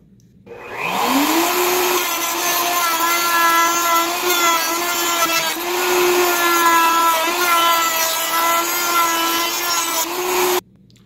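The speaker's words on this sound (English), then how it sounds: "Here's the recess that I just did with my 3/4 inch straight router tip" A router fitted with a 3/4 inch straight bit spins up to a loud, steady whine and cuts a recess in barnwood for a picture frame, holding close and constant for about ten seconds before stopping.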